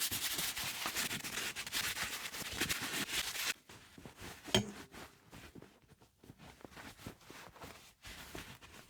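Brush scrubbing leather boots with cleaner, a dense rubbing scrape for a few seconds that gives way to softer, scattered brushing strokes, close and quiet.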